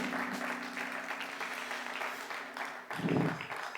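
A church audience applauds during a sermon, a steady, fairly quiet wash of clapping that continues throughout with a slight swell near the end.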